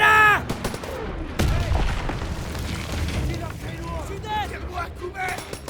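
Call of Duty WWII battle with machine gun fire and booms, loud at first then continuing at a lower level under French-speaking soldiers' voices.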